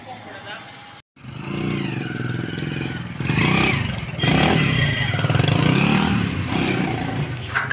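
A modified CD Dawn motorcycle engine revs close by, its loud drone rising in surges after a brief cutout, with people talking over it.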